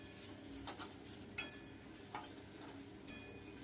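Ginger paste, turmeric and cumin powder stirred and fried in a pan, heard as a faint steady sizzle with a few soft scraping taps of the spoon against the pan.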